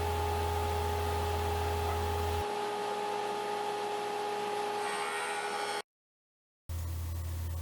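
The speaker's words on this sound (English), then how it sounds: "Next, I'm going to joint one edge in preparation to rip the final width." A jointer runs along the edge of a wood board, a loud, steady whine and hum that drops in tone partway through, then cuts out briefly before resuming.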